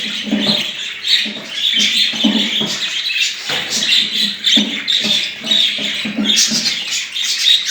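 A dense flock of budgerigars chatters and chirps nonstop in an aviary, overlapping warbles and squawks filling the space loudly and close.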